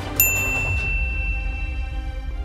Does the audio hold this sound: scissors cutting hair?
no